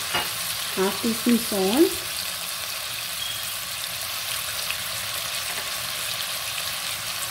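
Chicken frying in a pan with a soft continuous sizzle, close and low in level, while someone speaks briefly at the start and then falls silent.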